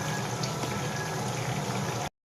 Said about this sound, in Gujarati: આપણે તળી લેશું ભીંડીને